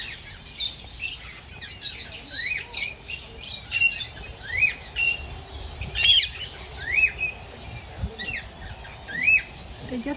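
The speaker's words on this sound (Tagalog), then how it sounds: "Look at the ring neck. Gorgeous bird." A ring-necked parrot in an Australian backyard aviary lets out repeated sharp squawks and chirps, close and loud, alongside other birds calling over steady outdoor background noise with no speech.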